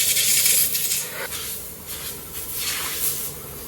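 Compressed air blasts dust out of the air filter of a Suzuki Swift during a full wash, giving a steady close hiss that swells and eases over a few seconds, with no talking.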